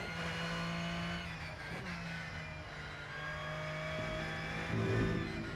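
Porsche race car in the Rennsport racing simulator, its engine holding a steady close drone with shifting pitch, brief tire noise and a louder rev near the end.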